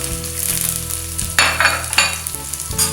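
Onions with spices and a small piece of cinnamon fry and get stirred in a pan for spicy chicken or prawns, a steady close sizzle broken by louder scraping stirs.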